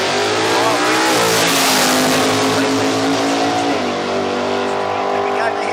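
Drag radial race cars launch down the strip at Willowbank, Australia, engines screaming at full throttle in a loud, sustained roar with rising pitch, close and continuous, with an announcer's voice blending in.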